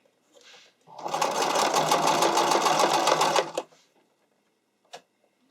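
A sewing machine runs a wide zigzag stitch over fishing line for a figure skating or dance costume hem, a close, steady burst of rapid mechanical chatter lasting under three seconds, with a brief soft click after it.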